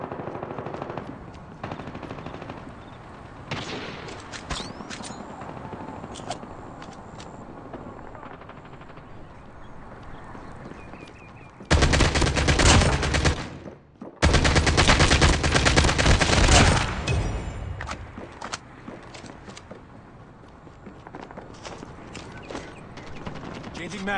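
Call of Duty gunfire: sparse shots and effects give way to a loud sustained machine-gun burst for several seconds, briefly broken, then fading, with voices talking around it.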